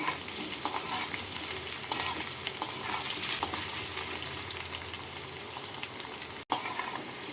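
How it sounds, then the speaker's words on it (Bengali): Potato pieces frying in a pan with a tempering of spices, a steady close sizzle with occasional stirring scrapes and one sharp clack near the end. "এবার এর মধ্যে আমি দিয়ে দেবো টুকরো করা আলু আলুগুলোকে একটু লাল করে ভেজে নেব"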